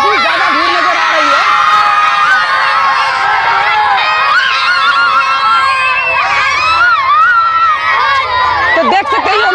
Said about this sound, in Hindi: तो देख सकते हैं काफी ज्यादा भीड़ नजर आ रही है यहाँ पे